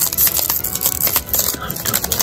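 A Pokémon card booster pack from a Kleavor VSTAR box is torn open close up, giving a continuous crinkly, crackling rip of foil wrapper.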